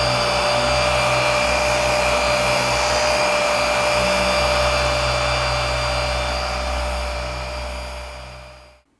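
A Rupes HLR21 cordless battery polisher runs on a BMW X5 with a steady, loud motor whir. The sound stays constant for several seconds and then winds down and stops at the end.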